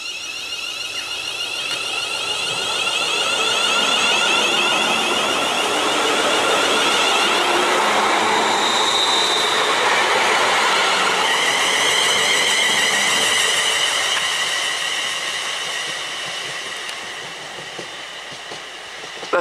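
A passenger train pulls away from West Kilbride station toward Largs, its rumble and rail hum swelling to a steady roar with high wheel tones, then easing slightly toward the end.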